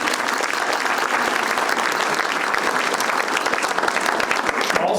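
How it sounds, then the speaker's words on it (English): Audience applause for sponsors at a thank-you party, with steady, full clapping from a crowd that carries on through the whole five seconds. "Also want to give a round of applause for that"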